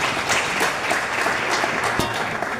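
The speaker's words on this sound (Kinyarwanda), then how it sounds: "This is a big clap to you." A church audience claps in dense, continuous applause that holds at a steady level for the whole stretch, with a few louder claps standing out from the crowd.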